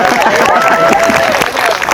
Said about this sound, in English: Give Phil a huge round of applause.